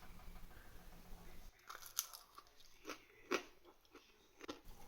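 Bites into crunchy oven-baked snacks with a hard, crispy nutritional yeast coating, a few sharp, close crunches followed by irregular chewing crackles in a quiet room.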